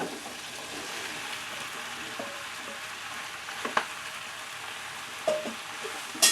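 Chayote fries in a pan with a steady, fairly quiet sizzle, broken by a few light utensil taps and a louder clack near the end, with no one talking.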